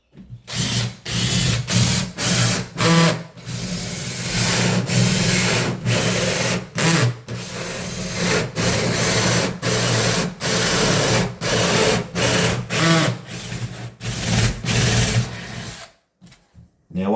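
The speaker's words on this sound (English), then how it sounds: "I've quickly adjusted my pilot drill, which will center the hole saw for me" A power drill whirs in repeated bursts, starting and stopping many times as a hole saw cuts through a timber door, steady and close, with short pauses between.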